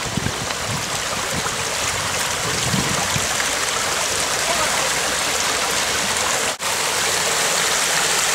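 A stream's water flows in a steady, full rush beside a grandmother and children, close and continuous, with a brief dip near the end and no voices.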